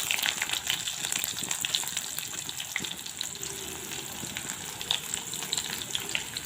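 Whole cumin seeds and chopped onions fry in hot oil, giving a steady, dense sizzle with crackling pops throughout and no voices.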